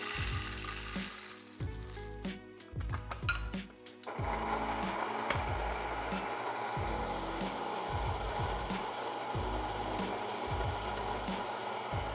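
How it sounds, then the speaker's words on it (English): Coffee grinder working through whole beans for a French press, opening with sharp crackling bursts of beans cracking, then settling into a steady loud whirring grind. "So I'm gonna take this now here, put it into my grinder."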